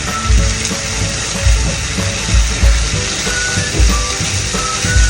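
Onions caramelizing with maple syrup in a hot pan give a loud, close, continuous sizzle and crackle, with regular low thumps as the pan is stirred or shaken.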